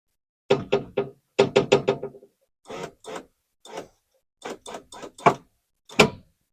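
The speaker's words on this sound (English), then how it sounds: "It's hitting the door speaker every time the window hits the speaker" A car door window on a project Subaru knocks against the door speaker inside the panel as it moves, giving repeated hollow knocks in short irregular bursts with pauses between them.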